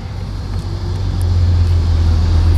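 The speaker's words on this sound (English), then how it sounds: "Just out driving my Vet." A Corvette driving along a road on a cloudy day, a steady low engine and road rumble that swells slightly louder as it goes, heard close from inside.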